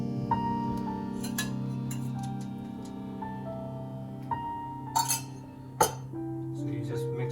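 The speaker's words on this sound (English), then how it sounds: "So you just mix everything together. You can use a spoon for this." A metal spoon clinks sharply a few times against a bowl while mixed vegetables are stirred for Surti Undhiyu, a Gujarati curry, with faint steady hum and talk in the background.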